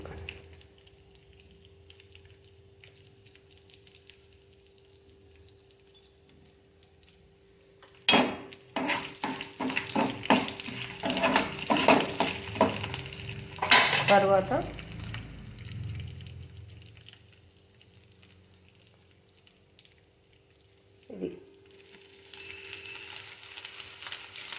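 Spices tempering in hot oil for a jackfruit (panasa pottu) curry, a burst of sizzling and frying with stirring and clinks of pan and utensils for several seconds, then settling to quiet kitchen sounds.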